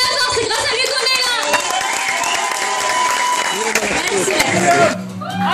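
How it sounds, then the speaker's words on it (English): An audience claps and cheers steadily at a French-speaking event, dense applause with some shouting and chatter mixed in, fading abruptly at the end. "Applaudissez-le bien, genre, c'est grâce à lui qu'on est là."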